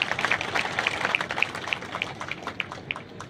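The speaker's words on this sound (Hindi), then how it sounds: "आपका बेटा, आपका लोकप्रिय सांसद, जरा ज्ञानेश्वर के लिए ताली करना चाहिए।" A crowd at a political rally claps steadily, a dense patter of many hands that fades slightly toward the end.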